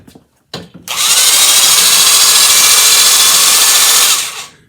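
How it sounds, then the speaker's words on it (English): After a couple of brief clicks, a Craftsman hedge trimmer attachment on a power drill spins up into a loud, steady high-pitched whir that runs for about three seconds before winding down. "hook it up to the old drill and see how it works"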